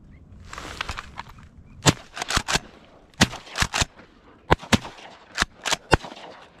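Shotgun blasts fired while duck hunting, a dozen or so sharp, loud reports in quick irregular pairs and clusters over outdoor quiet.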